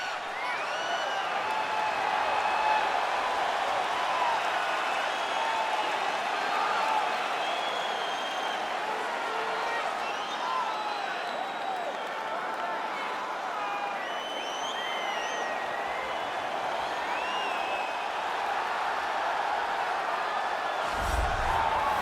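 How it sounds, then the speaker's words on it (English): Arena crowd in the UFC 4 video game cheering and whooping steadily, a dense, continuous roar with scattered shouts and whistles throughout, with a brief low thump near the end. "Crowd going crazy."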